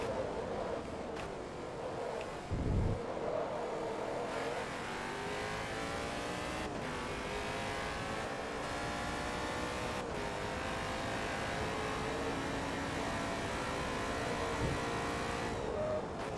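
Race car engine in the video game Forza Motorsport 2, an American V8 in the R3 class, revving and climbing steadily through gears with brief shift breaks, a continuous loud drone with a short skid-like burst, no talking.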